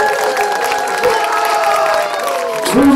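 An outdoor audience at a children's jazz festival in Lindevangsparken claps and cheers in a dense, sustained roar of applause, with whoops and children's shouts rising through it.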